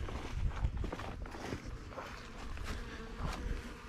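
Honeybees buzz densely around an open top-bar hive, a continuous close swarm drone with light shuffling and handling noises mixed in.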